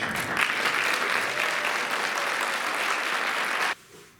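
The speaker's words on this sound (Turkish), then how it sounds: "Bu kadar az alkışa inmiyorlarmış." Concert audience applauding in a sustained, dense burst of clapping that holds steady, then cuts off abruptly near the end, leaving a quieter room.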